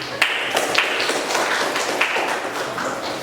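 Applause breaks out in a classroom for group 2 after their presentation: a short run of scattered hand claps and taps, fairly close, with no voices over them.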